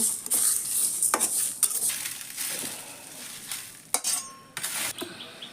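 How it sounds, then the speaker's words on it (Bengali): Panch phoron spices fry in oil in a pan, a continuous crackling sizzle broken by repeated scraping and clinks of a spoon against the metal. "পাঁচফোড়ন একটু ভাজবো, তারপর বাইরে নেব।"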